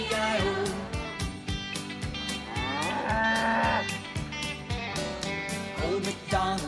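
A cow moos again and again in a steady rhythmic pattern, loud and close, set to a children's farm song with musical backing and no speech.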